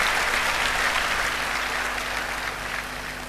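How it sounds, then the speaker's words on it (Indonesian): A church congregation applauds steadily during a sermon, a dense wash of many hands clapping together that holds throughout and fades slightly at the end. "Tepuk tangan buat prajurit-prajuritnya Tuhan."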